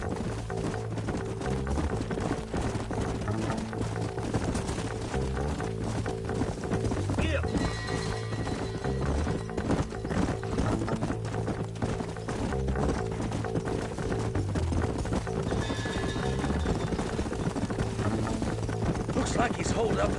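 Horses gallop in Red Dead Redemption in a fast, steady rhythm of hoofbeats over a dense, constant background with faint music, continuous throughout.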